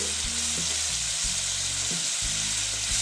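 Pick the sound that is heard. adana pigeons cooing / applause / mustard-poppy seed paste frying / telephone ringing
mustard-poppy seed paste frying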